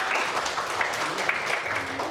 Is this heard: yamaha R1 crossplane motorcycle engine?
no